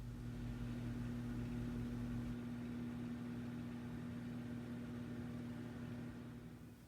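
A microwave oven runs at 50% power, heating oats for granola in a mug. It gives a steady low electrical hum with a fan whir that holds even throughout and eases slightly near the end.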